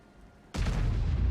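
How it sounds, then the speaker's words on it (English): A tank cannon shot in a World of Tanks-style game, fired into a Scorpion tank destroyer: a sudden heavy boom that hits loud after a quiet moment and rolls on as a dense rumble. "Fury puts a big shot into that Scorpion"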